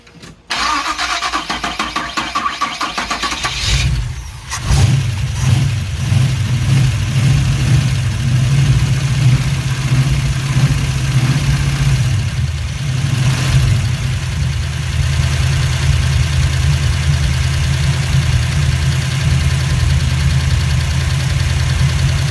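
A 1974 Oldsmobile Omega engine cranks and fires, then settles into a steady, loud, close idle with a low rumbling throb that holds without a break to the end.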